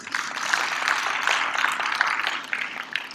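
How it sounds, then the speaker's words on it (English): An audience at a media forum panel session claps steadily for the panelists, a dense, continuous wash of applause from a hall that holds level for about three seconds before thinning slightly. "please, a round of applause for our panelists"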